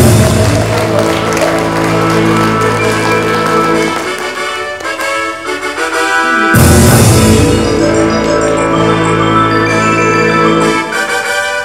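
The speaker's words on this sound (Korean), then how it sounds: "자, 여러분 다시 한번 큰 박수 부탁드립니다." An audience at a Korean newspaper anniversary ceremony and inauguration claps in a steady wash of applause, blended with loud music playing through the hall.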